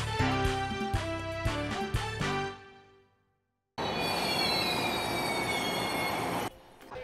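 A Taiwan Railway science-outreach train: a tonal, harmonic passage fades into a brief silence, then loud, steady rumbling wheel noise with high squealing from the rails continues for several seconds before cutting off.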